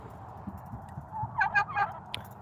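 A few quick turkey gobbles ring out against a quiet outdoor background, a short rattling burst of calls heard from a moderate distance.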